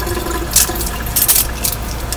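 Water runs steadily from a tap while soapy makeup brushes are rinsed, with a few brighter splashing bursts over the continuous flow.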